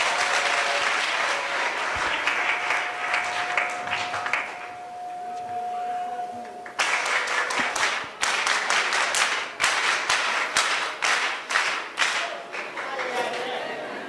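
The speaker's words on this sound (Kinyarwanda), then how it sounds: "mumbere Imana amashyi ya sipensiyali" Church congregation giving a special round of applause during a Rwandan worship gathering, dense clapping that swells, thins briefly while a sustained tone rings, then bursts back loud and sustained to the end.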